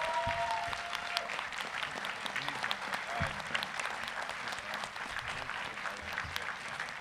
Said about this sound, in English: I think a round of applause for these guys.